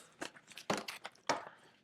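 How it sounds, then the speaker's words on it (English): A deck of index cards being shuffled by hand, giving a few short, crisp papery riffles and flutters in separate bursts, close and fairly loud. "So I guess we're going to shuffle some index cards."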